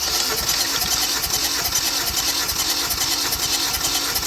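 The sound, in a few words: car engine cranking and starting on key turn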